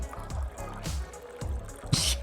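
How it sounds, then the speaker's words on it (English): In the video game Bartender Hustle, a drink is poured from a cocktail shaker into a cocktail glass, giving a short close trickling, splashing stream with small dripping bursts. "Shake and pour into cocktail glass."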